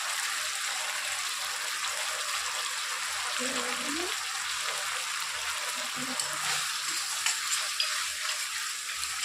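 Raw banana fries in ghee with a soft, even hiss of sizzling that runs unbroken, fairly close, with a few faint stirring knocks and a brief murmur of voice.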